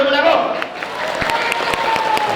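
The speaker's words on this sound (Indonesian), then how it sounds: "Tepuk tangan." A crowd at a Balinese temple ceremony gives brief, scattered hand clapping, with voices talking over and around it.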